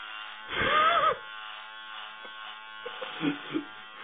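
An electric shaver, used with shaving cream, buzzes loudly in one short burst of about half a second, then only faint scattered rustles and small knocks follow.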